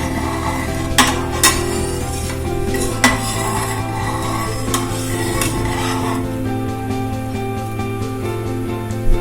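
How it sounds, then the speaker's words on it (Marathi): A spoon stirs salted masala in a pot for masala jeera rice, producing loud metallic clinks and scrapes against the pot at irregular intervals over a low cooking hiss. "आणि याला आता आपण व्यवस्थित हलवून घेऊया।"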